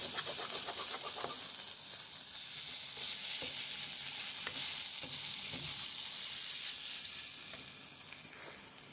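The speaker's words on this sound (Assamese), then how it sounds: "এইখিনি অকণমান সময় ভালদৰে লৰাই ল'ব" Pointed gourd and potato curry sizzling in a pan while being stirred, a close steady frying hiss broken by the scrape and clatter of the spoon against the pan, no talking.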